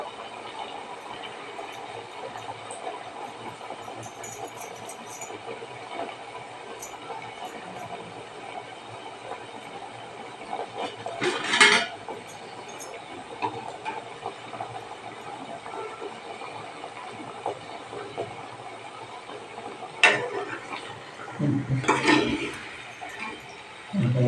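Balushahi dough frying in hot oil over a high gas flame, a steady close hiss and sizzle with occasional louder crackling bursts, no talk.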